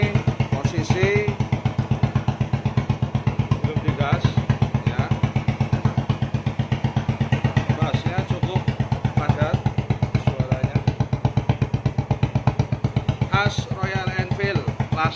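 Royal Enfield motorcycle, Euro 4, fitted with a small stainless steel custom exhaust packed with glass wool, idling and revving in a steady, loud, rapid-pulsing thump that runs throughout, close to the microphone, with brief voices heard over it.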